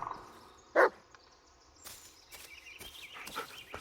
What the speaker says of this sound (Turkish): Bayağı bir havlıyor demek ki.